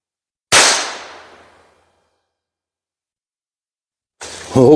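A single sharp rifle shot at an outdoor shooting range, loud and close, with a decaying echo over about a second, followed by silence and then a voice starting to speak; the rifle is a heavy or light carbine under test.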